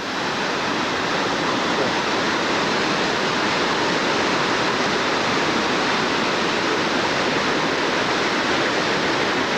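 Waterfalls on a river in Idaho roar in a dense, steady wash of rushing water, loud and constant throughout with no voices.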